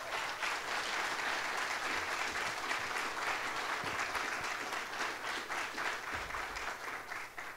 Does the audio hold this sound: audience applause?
yes